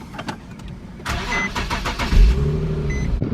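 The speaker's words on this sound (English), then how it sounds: "So then I just start it up." A car engine cranks with a few quick clicks and whirs, then catches and settles into a close, steady idle.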